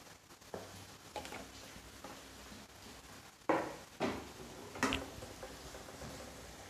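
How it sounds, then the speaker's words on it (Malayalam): A pan set down on a stove for frying crispy kovakka, with a few sharp clanks and taps standing alone against a quiet kitchen background. "പാൻ അടുപ്പത്ത് വെച്ച് അതിലേക്ക് നമുക്ക് എണ്ണ ഒഴിച്ചു കൊടുക്കാം."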